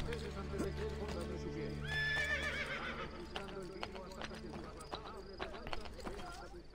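A horse whinnies loudly and clip-clops in Assassin's Creed Brotherhood Remastered, a rising neigh in the middle over a bed of game music and ambience, followed by scattered hoof knocks.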